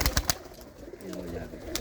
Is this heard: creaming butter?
no